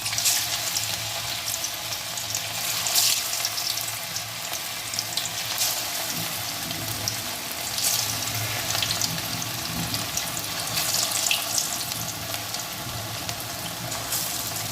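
Rava snack dough frying in hot oil in a home kitchen, a dense continuous sizzle and bubbling that stays close and loud throughout, with no talking.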